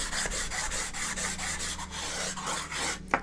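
Charcoal stick rubbing across drawing paper, the broad side laying down tone in steady, close, scratchy back-and-forth strokes that continue evenly, ending with a brief sharper scrape.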